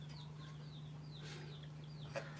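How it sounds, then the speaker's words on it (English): Soft clucking and chirps from chickens, faint and intermittent over a steady low electrical hum. "We've got chickens in here."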